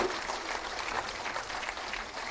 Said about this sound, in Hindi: तालियां आपकी तरफ से जरूर होती रहनी चाहिए।